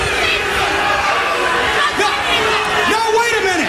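Wrestling arena crowd at a TNA show reacting with a loud, continuous roar of chatter and jeers, with someone shouting over it.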